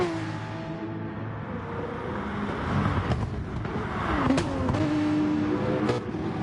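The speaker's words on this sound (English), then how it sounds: "Listen to those cars downshift." Racing car engines in the video game GT Sport at Mount Panorama whine and rise and fall as they downshift, with several sharp pitch changes over a continuous mechanical drone.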